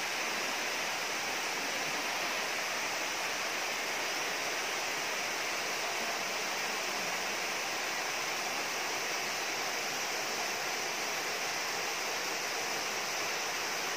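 Mamedias Falls pours in a steady, dense roar of falling water, loud and unbroken throughout with no voices.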